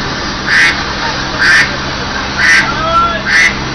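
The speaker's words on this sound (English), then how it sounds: "That's a giant duck." A giant duck prop quacks on the Universal Studios Hollywood backlot tour, four loud evenly spaced quacks ringing out clearly over a steady background hum.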